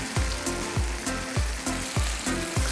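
Fish frying in a pan for a spicy fish and prawn curry, a steady sizzle with regular rhythmic thumps repeating about every half second, close and without speech.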